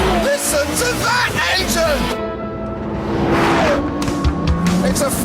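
A high-revving 5.7-litre V10 engine, originally designed for racing, screams loudly in a Porsche Carrera GT, climbing and falling in pitch, while someone talks excitedly over it.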